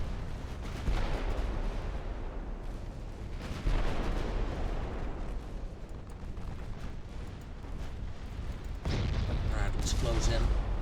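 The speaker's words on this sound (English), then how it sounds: "Heavy cruisers, if you can, fire at the battle cruiser." Naval gunfire in the Ultimate Admiral Dreadnoughts game, with heavy cruisers firing on a battle cruiser: continuous rumbling booms and blasts that swell loudly near 1, 4 and 9 seconds, with talking over them.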